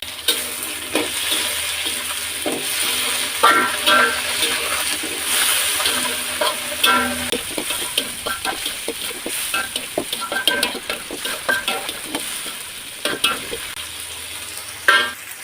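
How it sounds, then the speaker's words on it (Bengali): Chopped tomatoes fry with a steady loud sizzle in a pan alongside eggplant, stirred with repeated scraping clatters of a utensil throughout, cooking for a Chapila fish dish. "এখন আমি কেটে রাখা টমেটোগুলো ভেজে নেব।"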